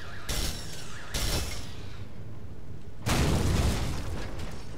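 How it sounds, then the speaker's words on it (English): A car blows up in the first-person shooter Hard Reset: several loud, roaring explosive bursts in quick succession, with a rumbling tail between them and a heavier, sustained blast at the end, with no talking. "This car next to the wall, I'm gonna blow it up just in case."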